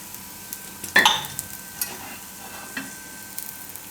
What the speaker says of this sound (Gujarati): એને એક બાજુ પાકવા દે, હું પછી ફેરવી લે. હું આપણે જરૂર પડે તો થોડુંક તેલ નાખી દેવાનું સાઈડમાં.